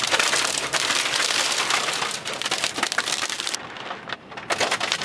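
Hail pelting down hard and continuously during a thunderstorm in Drexel Hill, a dense crackling rattle on surfaces nearby, easing briefly before resuming.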